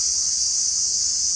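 A loud, continuous high-pitched cricket chirring fills the short clip without pause.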